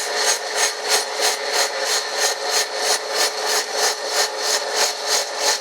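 A Brown & Sharpe No. 1 cylindrical grinder works a workpiece, giving a steady bright whirring grind with a regular pulsing rhythm, fairly loud and close, with no talk.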